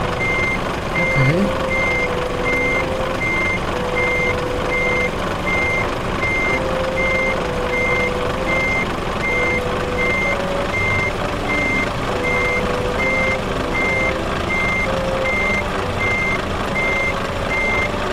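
Steady, evenly spaced reversing beeps ring out from a truck backing up in the Euro Truck Simulator 2 video game, pulsing without pause for the whole stretch over a continuous low engine rumble.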